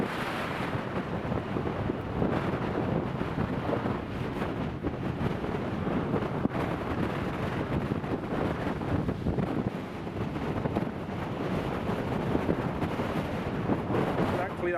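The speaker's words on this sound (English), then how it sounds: "Just to give you an idea of how windy it is at the moment, it's nearly blown the camcorder, the tripod over." Strong wind at an airport buffets the microphone with a continuous loud roaring rumble that gusts and eases throughout.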